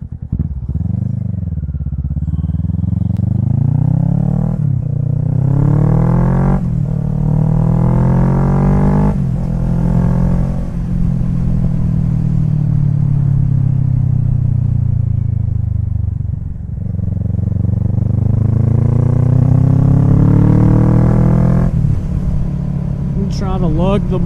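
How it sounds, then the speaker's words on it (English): A motorcycle engine roars loudly on a highway ride, revving through rising and falling high RPMs with steady wind rumble, heard close from a mount on the bike. "Try to lug the bike a little bit. I'm going to go some high RPMs"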